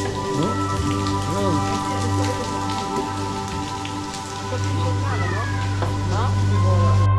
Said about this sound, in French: C'est plus amusant quand il pleut, non?